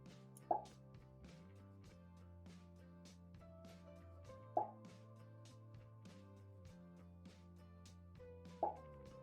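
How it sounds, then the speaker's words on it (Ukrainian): Three short, soft pops from Scratch, spaced evenly apart, sit over quiet background music with a light ticking beat. "Бачимо, є звук поп."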